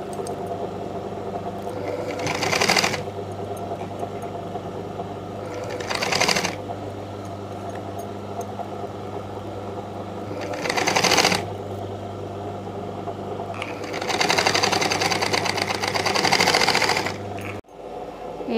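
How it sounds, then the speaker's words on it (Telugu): Domestic sewing machine stitching a blouse seam in several separate loud bursts of rapid whirring and clatter, with quiet pauses in between and a steady background hum, no talking. "ఇలా వన్ సైడ్ కుట్టిన తర్వాత ఈ సైడ్ కూడా అలానే"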